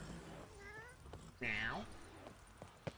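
A cat meows in a video game, Witcher 3, one short call followed by a louder, drawn-out meow, with faint background noise and small clicks.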